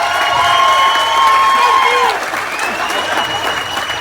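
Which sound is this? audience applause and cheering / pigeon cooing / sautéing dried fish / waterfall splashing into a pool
audience applause and cheering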